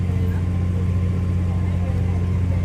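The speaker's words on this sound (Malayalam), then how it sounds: "ബോട്ട് വളരെ പതുക്കെയാണ് പോണത്" A motorboat engine drones steadily and loudly during a slow backwater boat ride to an island, a continuous low hum with water and wind noise and no breaks.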